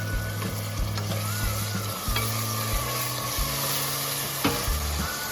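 Tomatoes hit onions frying in hot oil, bringing a steady loud sizzle with frequent clinks and scrapes of a stirring spoon against the pan, no talking.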